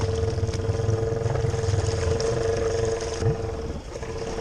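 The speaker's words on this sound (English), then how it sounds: "These tires propel the bike very quickly through the water." Motorcycle on Outlaw 3 tires churning through swamp water, a faint steady engine drone mixed with splashing and hiss, continuous and somewhat distant without voices.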